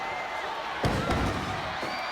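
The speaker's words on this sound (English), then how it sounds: "Body slams her out." A body slam in a women's professional wrestling match at an SOW Ignition show lands as a loud broadband thud on the mat. A roaring arena crowd and commentary continue underneath.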